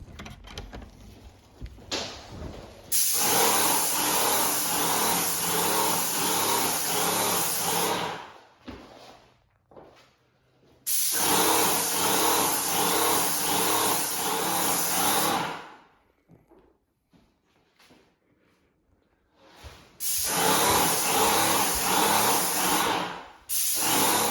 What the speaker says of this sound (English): this spray painter thing